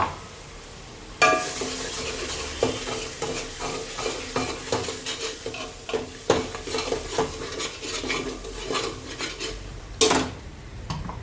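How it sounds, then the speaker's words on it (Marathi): Ground masala paste sautéed in oil for a Khandeshi-style mutton dish, a sudden sizzle as it hits the pan followed by repeated spoon scrapes and clinks against the pot, with no talk. "तेल सुटोस्तोवर छान परतून घ्यायचं आहे"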